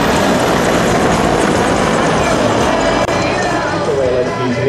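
A loud, steady helicopter rotor drone fills the whole stretch during an air show flyover in Piešťany, with broad rumbling noise and a faint voice underneath.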